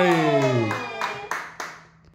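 Hands clap a few times during a lively family game at home, sharp claps spaced out under a child's drawn-out voice and cheerful talk.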